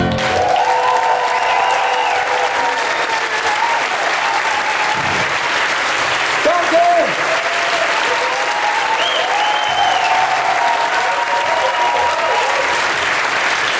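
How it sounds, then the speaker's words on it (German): Dense applause rolls on steadily for the whole stretch, with a few brief whoops and shouts of cheering rising above the clapping. "Applaus, Applaus, Applaus"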